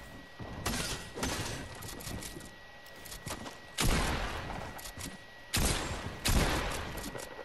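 Bursts of SMG fire in a video game, loud rapid volleys coming in three separate strings with short pauses between them.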